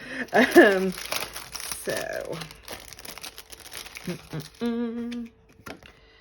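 Paper envelopes are handled and crinkled up close, giving bursts of crisp rustling and crumpling, while someone talks over them.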